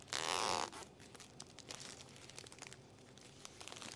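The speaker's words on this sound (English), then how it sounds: "Tape all that up." Tape being pulled and wrapped around a flower bouquet: a short, loud ripping burst, then soft, irregular crinkling and rustling of the wrapping.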